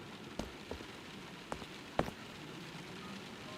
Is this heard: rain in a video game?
yes